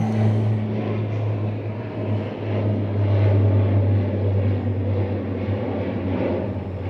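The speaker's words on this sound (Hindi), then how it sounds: "और वो जहाज़ अभी वहाँ से फ्लाई हुआ है।" Propeller airplane flying overhead near Toronto Harbourfront in winter, a steady loud droning engine hum that holds throughout with no talking.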